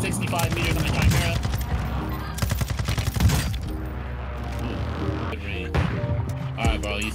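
Rapid automatic gunfire in the video game Warzone, from a Minibak SMG and other weapons, rattles in dense loud bursts with short gaps, layered over game sounds and players talking.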